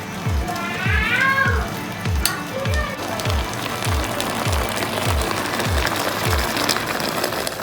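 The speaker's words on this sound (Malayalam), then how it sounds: "നമ്മൾ ഇതിലേക്ക് ഇഞ്ചി ഇട്ട് കൊടുക്കുകയാണ്." Chopped ginger sizzles loudly in a pan while the chilli chicken sauce is started, a constant frying hiss under a regular series of low rhythmic thumps, with a brief cat-like squeal early on.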